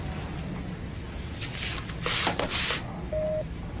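Short electronic tone bursts from a telephone being dialed in an office, a handful of quick beeps in the middle, then a brief single tone over a quiet room hum.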